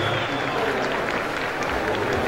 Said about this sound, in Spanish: así se aplaude en Paipa